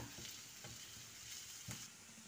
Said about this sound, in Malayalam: അപ്പോൾ നമുക്ക് ഉള്ളിയെ നന്നായി വഴറ്റാം ഇനി നമുക്ക് രണ്ടല്ലി വെളുത്തുള്ളി ഇടാം